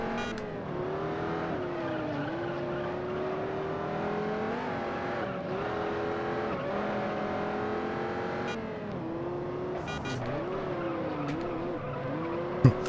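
A maxed-out Dodge Viper roars through a race in the video game Juiced, its engine holding a loud, steady whine with pitch dips at gear shifts and brief tire squeals, continuous and close with no speech.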